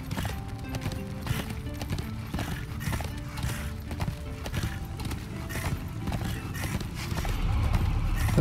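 A horse's hooves pound in a quick, regular clip-clop in the Darksiders II video game, loud and close, with occasional faint neighs mixed into the surrounding game sounds.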